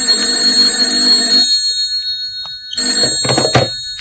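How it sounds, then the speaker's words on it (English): A telephone rings in a bright, shrill burst that cuts off, then after a short silence rings again with a jangly clatter, loud and close. "Then my phone shrilled."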